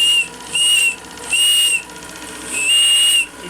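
Steam whistle on the model steam gunboat Fulgerul, sounding three shrill, steady blasts separated by short gaps, with a soft hiss of steam running underneath, close and loud.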